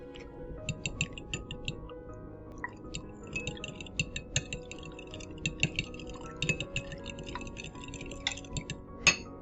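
Eggs with a pinch of salt being beaten in a bowl, a rapid run of light clicking whisk strokes against the side, steady and close, ending in a sharper knock.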